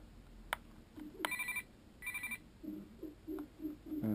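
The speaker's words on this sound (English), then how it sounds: "Weird ringtone." A toy phone that lights up and plays realistic ringtones chirps out a short, quirky electronic ring in several bursts, fairly quiet and close, with no voices over it.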